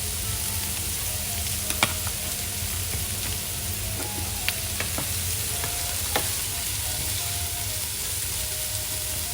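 Meatloaf ingredients dressed with complete seasoning fry steadily in a hot pan, a constant close sizzle with a few sharp clinks of stirring scattered throughout.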